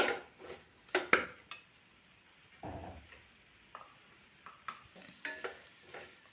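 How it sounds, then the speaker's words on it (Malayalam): A spoon stirring pepper powder into chicken curry masala in a pan, with scattered scraping and clinking strokes against the metal, some sharp and close, separated by quiet gaps and a soft background sizzle. "നന്നായിട്ട് ഇളക്കി കൊടുക്കാം"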